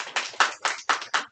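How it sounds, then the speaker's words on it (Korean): About six separate bursts of hand clapping in quick, fairly even rhythm, moderately loud and fairly close, at a redevelopment union's on-site briefing for construction company selection. "환영의 박수 부탁드리겠습니다."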